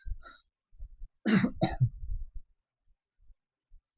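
A single short cough, close and soft, with a quieter throaty sound just before it and light breathing around it in otherwise near-silence.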